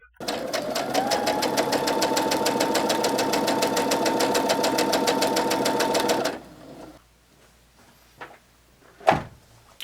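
A sewing machine runs steadily for about six seconds, its fast regular needle stitching joining gray and white fabric pieces for a quilt Y seam, then stops, followed by a few faint handling clicks and a soft thump.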